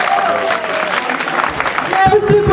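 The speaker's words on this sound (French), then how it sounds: "On va l'applaudir très fort." Audience applause for a CE2 pupil at a school-year opening ceremony in Cocody, a steady dense clapping wash throughout, with a voice briefly audible near the end.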